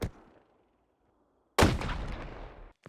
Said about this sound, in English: They went off straight away! They make some weird noises.